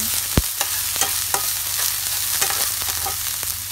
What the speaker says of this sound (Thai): ก็จะใส่ผักลงไปเลยนะคะ